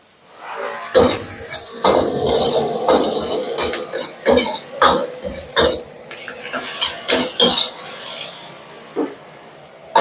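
Onion and garlic sautéing in hot oil in a pan for squid adobo, with a steady sizzle broken by repeated clattering scrapes and knocks of a utensil against the pan.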